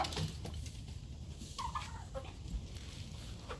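Buff Orpington hens in a coop where birds are laying give a few short, mid-pitched clucks and calls over a steady, noisy barnyard background.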